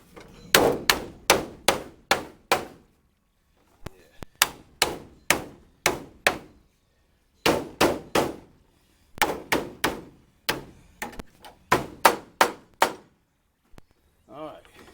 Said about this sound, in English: Now, where's the hammer? Get the hammer.